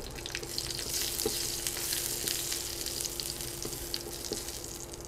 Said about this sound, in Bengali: আবার 1 চামচ তেল দিয়েছি, আর 2টা শুকনো মরিচ দিয়ে দিলাম।